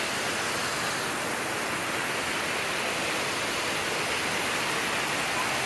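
Steady broadband rush of water at Casilak Bamboo Falls in New Cortez, New Corella, Davao del Norte, a continuous close roar of falling water with no breaks and no voices.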